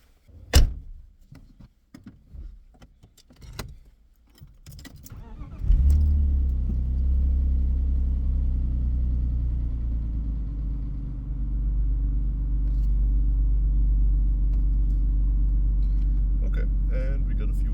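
A BMW E36 car starts and settles into a steady, loud engine drone as it drives, after a few seconds of door thumps, clicks and handling noises; a person speaks briefly near the start.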